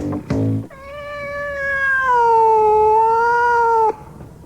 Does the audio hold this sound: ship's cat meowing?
yes